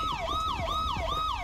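A wailing police siren from a patrol car in the video game GTA with the LSPDFR police mod, sweeping up and down in a steady repeating cycle, loud and close, with faint engine rumble beneath.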